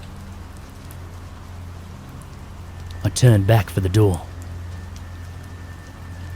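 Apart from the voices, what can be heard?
rain patting against gravel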